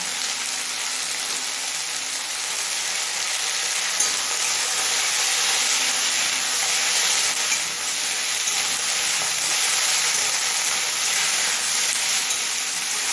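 Ginger paste frying with tomatoes in a pan for dal, a loud, steady, close sizzle that hisses on without a break and with no talk.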